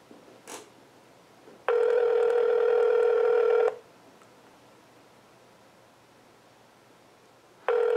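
A short burst of dialing followed by a steady telephone ringback tone, a long pause, then the ring starting again; faint rustle in between.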